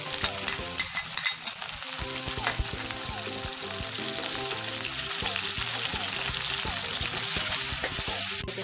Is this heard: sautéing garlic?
yes